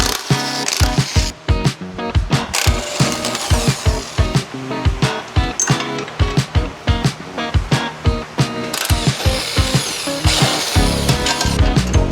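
Rapid mechanical clatter and bursts of a ratchet or power tool removing a car wheel and strut before a drive shaft install, with repeated sharp clicks and whirs close by, continuous and busy throughout.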